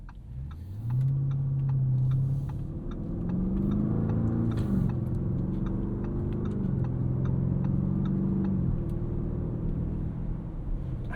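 A 2023 Lamborghini Urus S with a twin-turbo V8 and 8-speed automatic cruising through city streets, its loud engine drone rising and falling as it steps smoothly through several gear changes, heard from inside without talk.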